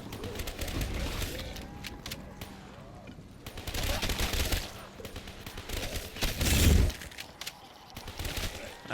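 An MP40 submachine gun fires in Black Ops 3 Zombies on the Nacht Der Untoten map, in rattling bursts mixed with crashing impacts and other game noise, loud and busy throughout.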